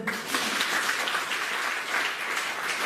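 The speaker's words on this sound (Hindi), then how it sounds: "और तालियां भी बजा दें।" A seated audience in a hall claps at a public address on COVID vaccination, steady dense applause filling the whole stretch at moderate volume with no talk over it.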